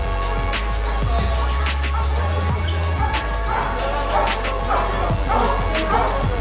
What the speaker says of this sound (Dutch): En zoals je kan horen zijn er een paar honden.